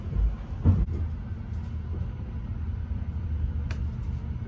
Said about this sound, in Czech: Takže právě jsme ve vlaku a jedeme domů.